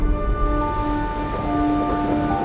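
Steady rain falls at night in a remote town in Taiwan, a dense continuous patter on surfaces with a faint tonal hum underneath and no voices.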